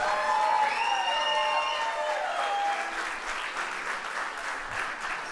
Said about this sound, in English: Applause for Taylor and Tom